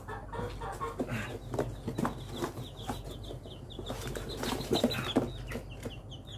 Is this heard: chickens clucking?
yes